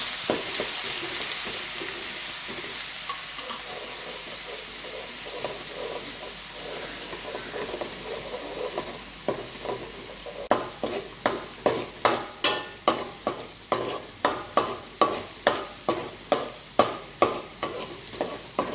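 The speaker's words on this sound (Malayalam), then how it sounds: "ഉലുവ മൂത്തതിനകത്തോട്ട് നമുക്ക് ഇഞ്ചി ഉള്ളി ഇട്ട് കൊടുക്കാം" Crushed ginger and shallots tossed into hot oil with fenugreek for a bird's eye chilli pickle, sizzling steadily while a spoon scrapes and stirs in a regular rhythm of clinks and scrapes, close and moderately loud with no talk.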